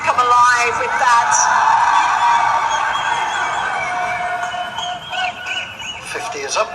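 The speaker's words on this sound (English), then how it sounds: "You can just hear the crowd, who might have been just a little bit sleepy in this hot sunshine, come alive with that." A cricket crowd in hot sunshine at a Nepal versus Netherlands T20 match, cheering and shouting loudly and steadily throughout, a broad roar of many voices with whoops rising and falling.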